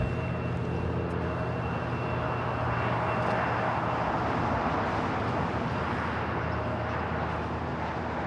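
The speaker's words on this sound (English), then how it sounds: "This is Air New Zealand Flight 6 coming in from Auckland." Air New Zealand Flight 6 from Auckland comes in to land at Los Angeles airport, a sustained broadband jet roar with a faint low hum, steady and fairly loud throughout.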